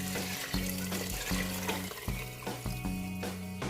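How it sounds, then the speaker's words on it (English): Six cups of water poured into a soup pot for Korean mushroom soup, a steady close splashing pour broken into several short gushes, with no talk over it. "next we'll add in the 6 cups of water."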